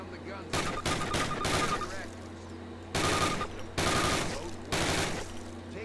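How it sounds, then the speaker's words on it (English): Thompson submachine gun firing in the Call of Duty video game: several loud, rapid bursts of automatic fire, separated by short pauses, heard up close. "Fire 10 rounds at your target"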